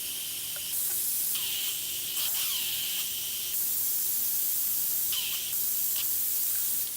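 An airbrush gun sprays water in steady hissing bursts, several on-off blasts of air separated by brief pauses, close and fairly loud with no talking.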